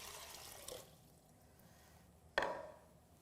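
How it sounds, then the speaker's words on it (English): A quart of water pours into a cooking pot for pasta, a soft splashing that fades out, then a sharper splash or clunk near the end, quiet and heard alone. "So here we have 1 quart of water. Just gonna add that in."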